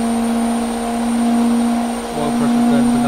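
Engine rated over 1,600 horsepower running at about 7,000 rpm on a test, a loud steady high drone with a strong sustained tone and rising harmonics near the end, close and continuous.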